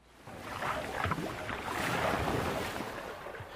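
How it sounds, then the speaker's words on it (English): An ocean wave sound effect rises into a broad washing surge of surf, then slowly recedes, heard alone with a soft wind-like hiss. "So we're going to go into Soundly again and look for another wave."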